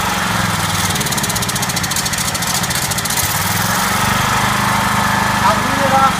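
An engine running on propane drones steadily and loudly, with a rough, lawn-mower-like idle and a constant throb that stays unbroken throughout.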